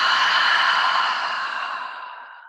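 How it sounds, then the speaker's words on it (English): A single long, breathy exhale pushed out through the mouth after a deep nasal inhale during a guided breathing exercise, loud and close at first, then slowly tapering off over a couple of seconds. "Take a big inhale through your nose and exhale out of your mouth."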